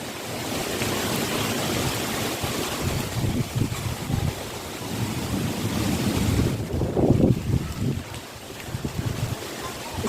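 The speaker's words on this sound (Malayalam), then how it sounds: "ഇത് നല്ലൊരു ആശ്വാസമുള്ള കാറ്റാണ് കേട്ടോ." Strong gusty wind ahead of summer rain under a darkening sky in a garden, roaring and buffeting hard against the microphone, rising into a louder gust midway before easing slightly.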